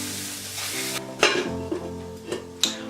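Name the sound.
cauliflower meat cooking in oil in a pan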